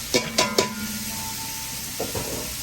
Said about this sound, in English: We're going to dump the Trinity in. We're going to caramelize these veggies.